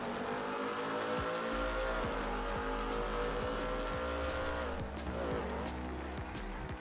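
Car tires squealing through corners in GTA, a sustained screech over a droning engine with repeated skids throughout, loud and continuous.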